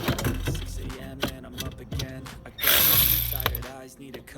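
Ratchet clicking in short bursts while removing the two screws that hold the steering column in a Nissan Altima during dashboard work, close and fairly loud with a brief louder burst of noise partway through.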